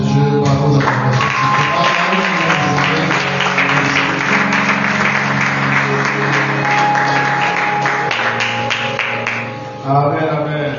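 A church congregation applauds and cheers in praise during a French-language worship service, a steady wash of clapping with music-like tones underneath and a voice returning at the end.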